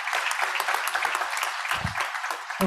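Audience applause fills a school board meeting room, a steady dense clapping from a crowd that carries on loudly for the whole stretch with a few murmured voices underneath.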